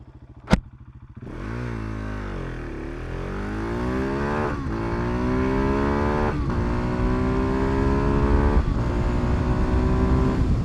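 A motorcycle accelerating hard down a drag strip: after a sharp click, the engine roars up through several gears with rising pitch and brief dips at each shift, loud and sustained with no talking.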